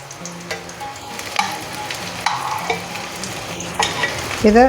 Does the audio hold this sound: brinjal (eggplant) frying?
yes